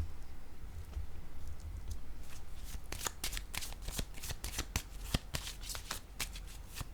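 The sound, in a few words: tarot card being handled and laid down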